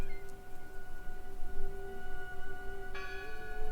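Church bell tolling inside the video game Draugen, sustained ringing tones holding steady at moderate volume, with a second bell strike joining near the end over a low rumbling background.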